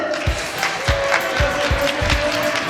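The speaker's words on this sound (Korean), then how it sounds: "자 결승 진출자분들 모시겠습니다. 박수로 맞이해주세요." An audience at a 2024 taekwondo championship final claps in a steady unison rhythm of about two beats per second to welcome the finalists, sharp and close, over a faint sustained tone and room murmur.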